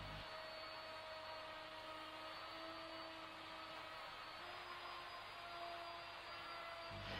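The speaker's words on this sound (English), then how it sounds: "The cut is then made, holding the router firmly against the jig at all times." A router cuts a laminated kitchen worktop, guided along a Trend jig held with G-cramps, taking roughly 8mm per pass: a loud, steady, close motor whine with a broadband cutting roar that runs unbroken for about seven seconds, with no talking.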